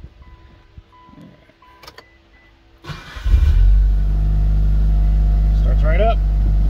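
A Mitsubishi Evo, just fitted with a new ignition switch, cranks briefly and then fires into a loud, steady idle close by, after quiet clicks and faint movement; a person speaks at some point.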